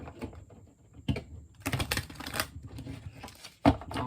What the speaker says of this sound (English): One more shuffle this way.